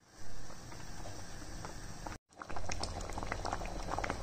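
Homemade tomato paste simmering on the stove, a thick bubbling boil with close, steady popping and gurgling, cut by a brief gap halfway through before the bubbling resumes, with no voices.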